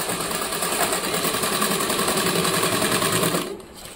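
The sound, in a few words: sewing machine stitching a bag from a rice sack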